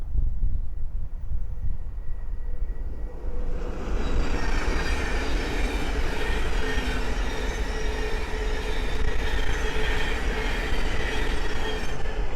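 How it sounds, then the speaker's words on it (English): A Thameslink Class 700 train passes on the East Coast Main Line at Great Wymondley, a loud steady roar of wheels and rushing air with squealing and rhythmic rail clatter building after a few seconds and holding close. "the next train to pass by is a Thameslink 700 from Peterborough to Horsham"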